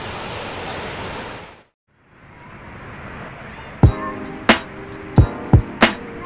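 Ocean waves wash onto the beach on the west coast of Pangandaran in the late afternoon, a steady broadband surf roar that briefly drops out, returns, and is then punctuated by several sharp knocks and taps near the microphone.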